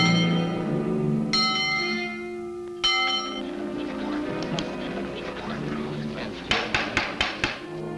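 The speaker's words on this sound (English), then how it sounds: "Jim, go on down to the engine house and ring the bell." An engine house bell is struck a few times, each clang loud and close with a long ringing decay, over a murmur of background voices and clatter.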